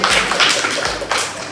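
Students in a classroom clap briefly for a presenting group, a short burst of a few close, uneven hand claps and taps lasting about a second and a half.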